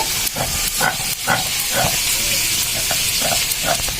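Potatoes frying in hot oil in a pan for a Bengali taki fish and radish ghonto, with a steady close sizzle and hiss broken by short bursts, like stirring.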